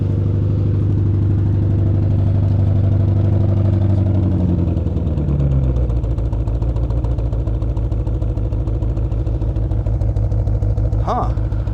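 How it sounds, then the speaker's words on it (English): A BMW X6's exhaust idles with a deep, throaty burble close by, dropping to a lower steady rumble partway through, with a brief brighter noise near the end. "Here's what the exhaust sounds like."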